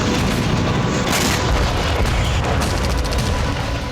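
Heavy explosion tearing through a Ukrainian weapons warehouse, a loud, continuous roar of booming and crackling blasts that fills the whole stretch without a break.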